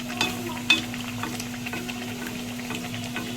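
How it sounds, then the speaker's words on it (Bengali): Chhatu-stuffed kachori frying in hot oil makes a soft, faint crackling sizzle with a few sharp pops and clicks over a steady low hum. "আমি তেলটা আগে গরম বসিয়ে দিয়েছিলাম এবার আমি পুরটাকে ছেড়ে দেব পুরিটাকে দেখুন কেমন করে ফুলছে"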